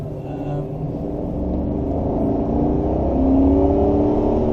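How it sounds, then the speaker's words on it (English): A heavy Australian double-trailer road train of about 60 tons rushes past at roughly 100 km/h, a loud, steady engine rumble and tyre roar that swells slightly as it goes by, with no talk over it. "One of those big double trailer trucks we have here in Australia."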